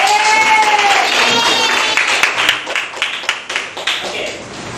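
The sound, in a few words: audience clapping hands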